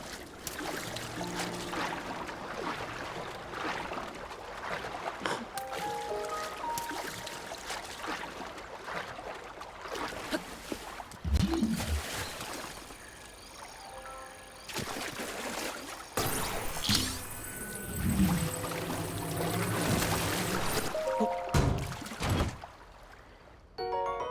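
Water splashing and trickling as a character swims across in The Legend of Zelda: Breath of the Wild, a steady wet stroking texture with a few sharper splashes over game background sounds, no talking.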